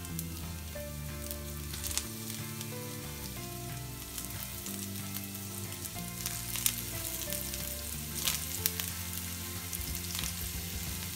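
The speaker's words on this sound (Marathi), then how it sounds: "तर आता मी ह्याच्यामध्ये हे शॅलो फ्राय करून घेते।" Dill (shepu) vadi pieces shallow-frying in oil, a steady bubbling sizzle that runs the whole time with occasional sharper pops, close and alone, over a musical background.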